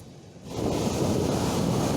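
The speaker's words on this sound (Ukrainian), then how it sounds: "Ось так, хвиля б'є." Sea waves break on the shore of a beach, a surge of rushing surf that swells after a quieter moment and holds as a loud, close, wind-buffeted wash.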